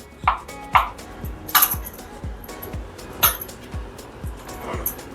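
A knife cuts paneer into small pieces on a board, making a steady series of firm, close taps about every half second, mixed with a few light clinks of utensils.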